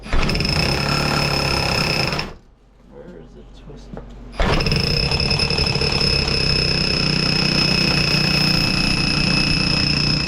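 A loud new power drill grinds continuously up close into a basement floor, stopping briefly while someone speaks, then starting again at full strength.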